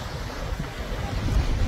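Strong rushing water roars close by at Salaulim Dam in Goa, with a steady broadband wash and wind buffeting, rising a little toward the end.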